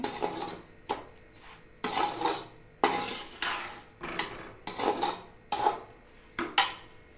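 A spoon scrapes and stirs rava laddu mixture in a pan, a repeated rhythm of about a dozen raspy strokes with metallic clinks, close and fairly quiet.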